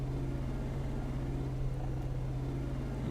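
Ford F-450 Super Duty engine in American Truck Simulator, a steady low drone with a strong hum running unbroken throughout, loud and alone with no talk.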